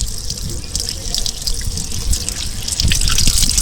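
Water is poured over Madurai jasmine flowers to rinse them, a loud, continuous splashing and trickling close by with scattered drips, and a voice murmurs faintly underneath.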